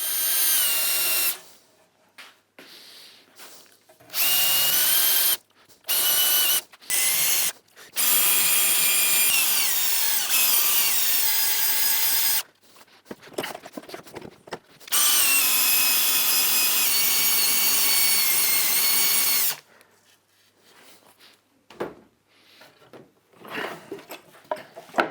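A power tool cleans up the handle holes of a wooden dovetail-handled serving tray, running in loud close bursts of several seconds each, separated by short pauses and sudden stops, with no talking.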